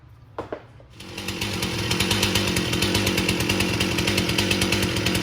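A chainsaw being tuned: after a few quick blips, the engine revs up to about 3,300 RPM and holds a loud, steady, buzzing drone, close by.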